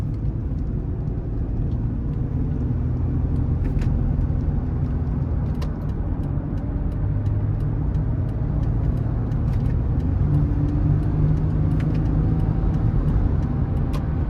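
A 2013 Toyota Highlander Plus is driven with manual gear shifts, heard from the cabin as a steady, loud low engine and road rumble with no clear breaks, and no talking.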